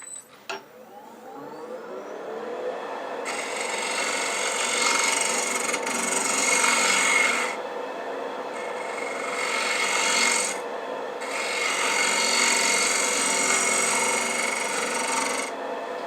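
A skew chisel held flat as a scraper shaves a spinning cherry burl box on a wood lathe, producing a steady, close rasping hiss in long sustained passes separated by brief pauses.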